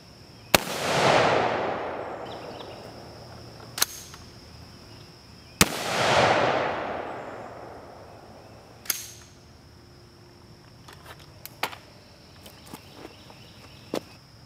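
A rifle fires 5.56 M855 rounds at a Tactical Scorpion Gear EXTREME series 10x12 armor plate outdoors, two sharp loud cracks several seconds apart, each with a long echoing decay, followed by fainter clicks and taps and night insects.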